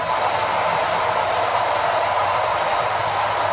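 A continuous rolling rumble of a model train running steadily with its sound system on, with a constant whirring hum and no pauses.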